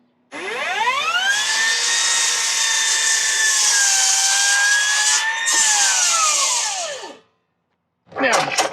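A large Makita cordless saw with a thin-kerf blade cuts steadily. Its loud, sustained high whine runs for about seven seconds, sags slightly under load, then spins down, and a second short burst starts after a brief pause.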